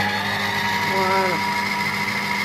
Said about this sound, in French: je vais faire tourner pendant 15 secondes, un petit peu plus vite pour que ça soit bien homogène, à la vitesse 4